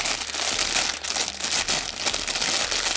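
A small plastic bag crinkles and rustles up close while a Goolsky SMRC S20 RC drone is unboxed, with dense, irregular crackling bursts that keep going throughout with no speech over them.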